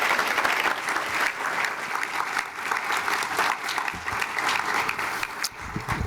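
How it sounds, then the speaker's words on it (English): An audience at a memorial celebration claps in a sustained, dense round of applause, fairly close and steady throughout. "Let's have another round of applause for"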